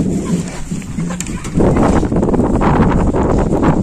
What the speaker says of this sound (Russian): Да, ну сегодня ветер.